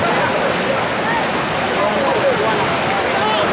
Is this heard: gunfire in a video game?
no